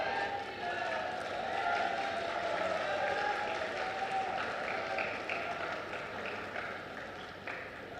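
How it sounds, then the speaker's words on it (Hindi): Applause from a large audience at a public event for the chief minister of Jhansi division development projects, a dense sustained clapping that slowly fades near the end, with a voice speaking over it. "पुनः एक बार जोरदार तालियां हमारे माननीय मुख्यमंत्री जी के लिए"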